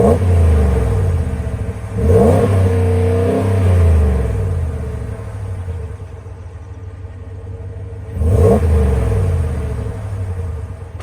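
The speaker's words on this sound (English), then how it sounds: "I'll show you an exhaust clip though from the outside." A 2020 RAM 1500 pickup's 5.7-liter Hemi V8 with dual exhaust, heard from outside, idles with a deep rumble and is revved twice, each blip rising sharply then settling back to a loud idle.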